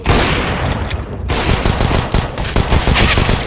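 Gunfire in Counter-Strike on the Inferno map during a competitive match: loud, near, rapid bursts of shots that run almost continuously, with one brief gap partway through.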